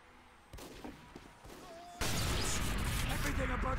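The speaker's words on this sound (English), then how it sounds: "I'm gonna headshot this person right as I walk through." Gunfire from a Team Fortress 2 match, a loud sharp shot followed by a dense, sustained burst of game combat noise, close and heavy, with faint activity before it.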